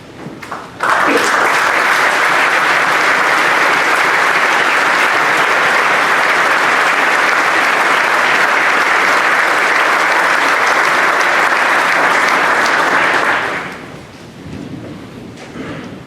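An assembly audience applauding musicians at an old boys' school reunion, a sudden dense burst of loud clapping that holds steady for about twelve seconds before fading away.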